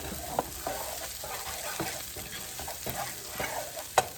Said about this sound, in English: gotta cook up these onions